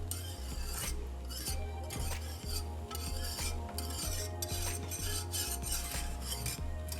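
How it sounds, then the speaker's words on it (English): Lemon curd is stirred steadily in a pan on the stove, a regular rhythm of close scraping strokes against the metal over a constant low hum, with no talking. "Just keep stirring."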